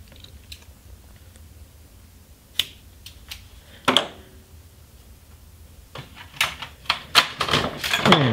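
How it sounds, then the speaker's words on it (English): A plaited whip strand being cut: sparse, sharp snipping clicks, a few isolated early on, then a quicker cluster of cuts near the end, close and clear with no talking. "it's time to cut this strand."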